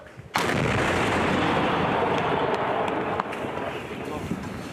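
A sudden loud blast sets off a sustained roaring rumble that holds steady before easing slightly, like a heavy gunshot or artillery fire.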